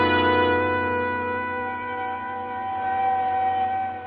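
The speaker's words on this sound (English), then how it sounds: "The sound of an ambulance wheeling into the receiving room below shatters your train of thought" A loud, sustained siren wail holding steady tones with a slight dip and rise in pitch, close and continuous.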